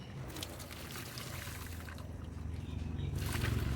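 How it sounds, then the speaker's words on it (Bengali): Water is drained off boiled banana stem, a soft pouring trickle that builds gradually louder toward the end, close by with no voices. "এখন জলটা ঝরিয়ে নেব।"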